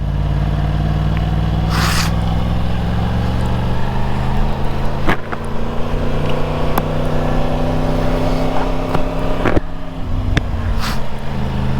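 A car drives nearby on the road, giving a steady, loud low engine rumble that holds throughout, with a few sharp clicks and brief rises along the way.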